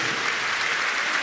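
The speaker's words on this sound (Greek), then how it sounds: "Τους βλέπετε, χειροκροτήστε τους." A crowd applauds the gold-medal basketball team at a medal ceremony, a steady, even wash of clapping from a large audience filling the whole short moment.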